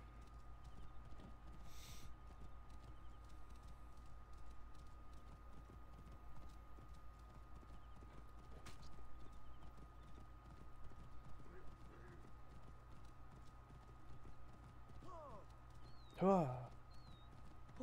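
Quiet, steady clip-clop of horse hooves trotting over a low ambient hum in a video game, Assassin's Creed Origins, with a short whinny breaking through near the end.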